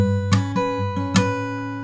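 Fingerpicked guitar, a few plucked notes ringing over a sustained low G bass note played with the thumb, close and clear with no voices.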